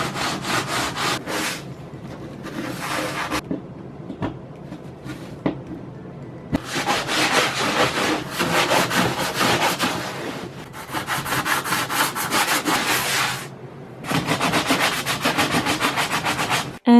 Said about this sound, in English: So now I'm just taking that off with a sanding sponge.